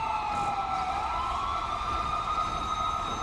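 A wailing police siren in the video game GTA 5 rises and falls steadily and loudly for a few seconds, with no talking over it.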